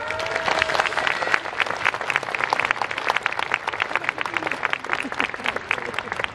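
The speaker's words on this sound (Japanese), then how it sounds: "皆さん大きな拍手を、ファイターズガールの皆さんでした" Audience applause for the Fighters Girls, the Fighters' 22-member cheer squad, at their 2016 costume unveiling: dense, steady clapping from a large crowd, loud and sustained throughout.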